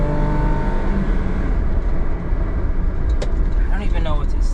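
A Daihatsu HiJet deck van in power mode drives along with a loud, steady engine drone and road rumble close by inside the cab, with a brief faint tick and rattle near the end.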